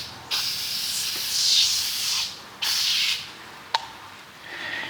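Scrubbing Bubbles aerosol cleaner sprayed onto fireplace brick in short hissing bursts, three main blasts with gaps between and a small click, close and fairly loud.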